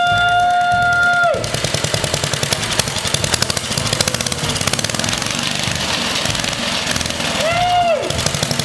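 A rare 1950s engine runs with a rapid, steady mechanical chatter after a high whine fades, continuous and close, with a short rise in pitch near the end.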